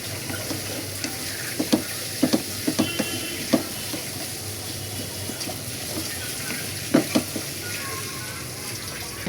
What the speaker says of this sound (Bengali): ডালগুলোকে ভেজে নিচ্ছি